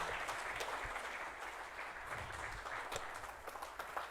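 An audience at a corporate conclave applauding, a sustained, even roar of many people clapping in a hall, fairly distant and diffuse, continuing steadily for several seconds without speech.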